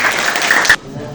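An audience at an Islamic university session on hajj bursts into a short, loud round of clapping that stops abruptly, followed by a brief lull.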